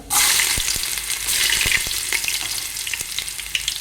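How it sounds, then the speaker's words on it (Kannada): A piece of ginger dropped into hot oil with popping mustard seeds, a loud bright sizzle that surges at the start and keeps crackling, with scattered sharp pops and stirring clicks. "ಈಗ ಸಾಸಿವೆ ಕಾದಿದೆ ಸ್ವಲ್ಪ ಶುಂಠಿ ಹಾಕ್ಕೊಳ್ಳುವ ಒಂದು ತುಂಡು"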